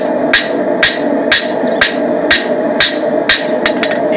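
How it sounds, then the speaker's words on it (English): Hammer forging out a knife blade, sharp metallic strikes in a steady rhythm about twice a second, nine blows close and loud, the last few quicker. "Then we start forging it out."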